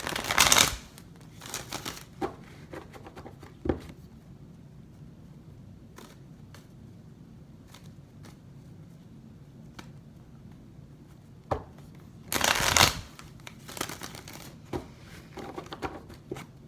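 Tarot cards being shuffled for a full moon reading, giving two louder bursts of riffling at the start and near the end, with soft handling taps and card clicks in between.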